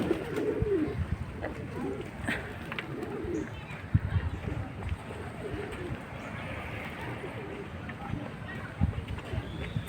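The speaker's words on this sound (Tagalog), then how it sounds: "Ito mga kalapati naman." Pigeons coo softly at an outdoor river park for walking and jogging, their low murmuring calls repeating under scattered footsteps and faint background voices.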